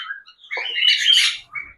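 Pet cockatiels and budgerigars chirping in a mixed flock, a few close, bright, overlapping tweets and squawks in short bursts with quiet gaps.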